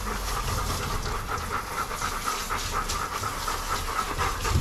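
A Bernese Mountain Dog pants steadily during grooming, quick rhythmic breaths close to the microphone with no talk over them.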